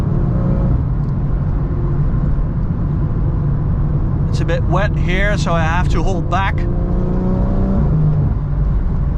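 A 665 hp BMW M140i xDrive drives on a wet Autobahn, its steady engine and road roar running throughout, with someone talking over it through the middle.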